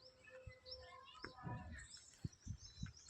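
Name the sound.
birds chirping in a garden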